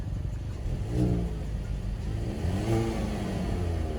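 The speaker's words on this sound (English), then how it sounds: "can you rev your car one last time?" A Hyundai Veloster N engine revving in two strong surges, rising and falling in pitch over a steady idle rumble, close and loud.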